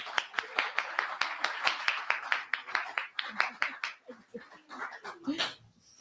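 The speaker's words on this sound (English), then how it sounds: "Another round of applause for Sir Richards," Applause for Sir Richards at a heritage evening: a small audience claps in brisk, distinct hand strikes, dense at first and thinning to scattered claps toward the end, with faint voices underneath.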